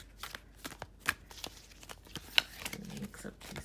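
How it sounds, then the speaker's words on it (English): Quick riffling and soft slapping of a Native Spirit oracle deck being shuffled close up, in uneven bursts, with a few quiet words spoken underneath. "And mix up these cards good"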